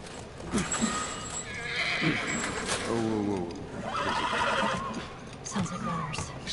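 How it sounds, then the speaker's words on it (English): A horse in the video game The Last of Us whinnies several times while hooves clip-clop steadily, moderately loud, with voices talking over parts of it. "Stay with the horse."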